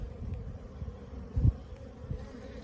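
Steady low buzzing and droning of honeybees in a crowded hive during a spring inspection, with newly hatched drones among them, close and continuous with small swells in intensity.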